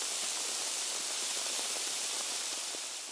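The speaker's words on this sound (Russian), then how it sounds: "Это записанный звук того, как жарится бекон." Bacon frying, used as a film rain sound effect, gives a dense, even hiss with fine crackling throughout, steady and close, with no voices.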